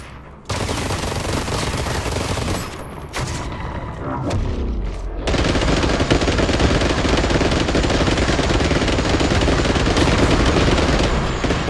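Sustained rapid gunfire hammering a demon boss in the roguelite Armatus, loud and continuous with a brief lull before resuming even denser until the end.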